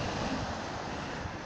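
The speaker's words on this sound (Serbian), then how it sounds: "Uživajte u ovim predivnim talasima i zvucima ovih talasa" Sea waves wash steadily onto the shore in a loud, continuous rush of surf, with wind noise across the microphone and no voices.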